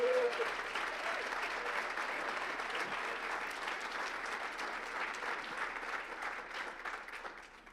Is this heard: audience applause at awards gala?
yes